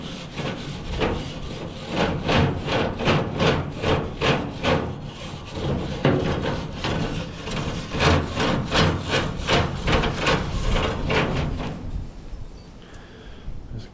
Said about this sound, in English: I'm gonna at least give it a good scrape.